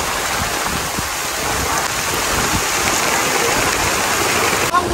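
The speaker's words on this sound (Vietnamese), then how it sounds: "Mưa lớn bà con ơi trời mưa quá mưa bay." Heavy rain pours down steadily during a storm at Đầm Thị Tường lagoon, a dense, unbroken roar of close downpour that fills the whole clip without letting up.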